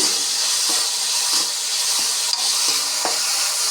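Green chili and tomato cook in a hot pan for a fish curry, giving a loud, steady sizzle and hiss that runs without a break, with soft stirring scrapes coming through every half second or so.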